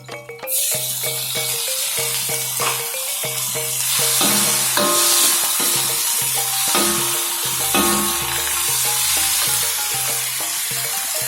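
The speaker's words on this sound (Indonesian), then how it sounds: "Kita tumis lagi cabai hijau." Green chilies sautéing in a hot pan, a steady close sizzle and crackle of frying throughout, with strong tonal music playing over it and no talk.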